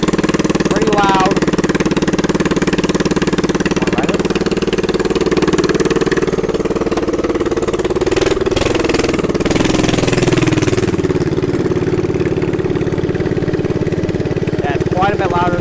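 Predator 212 minibike engine with an open header and no muffler, running loud and close in a steady mower-like drone with pops and backfires scattered through, while people talk over it.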